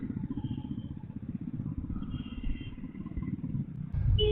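A Honda X Blade motorcycle rides along during Holi near RK Beach, its engine giving a steady low rumble and purr throughout, close and fairly loud, with a slight rise in level near the end.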